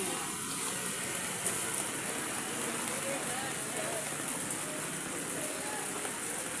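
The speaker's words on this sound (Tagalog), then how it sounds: "Palakas na na ng palakas ang ulan." Steady, dense typhoon rain hisses and patters continuously at a loud level, with faint voices mixed beneath the downpour.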